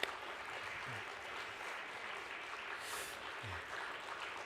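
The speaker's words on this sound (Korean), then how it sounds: "자리로 돌아가실 때까지 크게 박수해 주세요." Scattered applause from a church congregation continues steadily as a soft, even patter, fairly distant and quiet.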